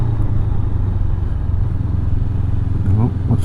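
Several motorcycles ride down the Stelvio Pass, a steady, loud engine drone filling the whole clip with a rising rev near the end, while a voice talks over it.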